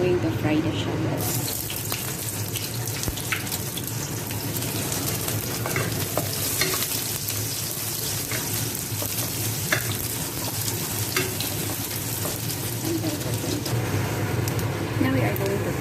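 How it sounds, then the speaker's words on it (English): Shallots fry in a wok for chicken fried rice, giving a continuous dense sizzle with stirring and scraping throughout. Faint sounds of water running in the background. "We are going to fry the shallots."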